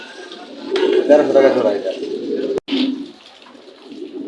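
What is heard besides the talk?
racing pigeons cooing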